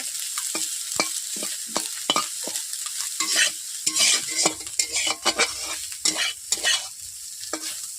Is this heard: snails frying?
yes